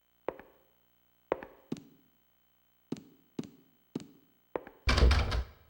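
A door in Silent Hill 2 with a broken lock rattles and thunks: a series of sharp, separate knocks in a quiet room, followed by a louder, rougher burst at the end.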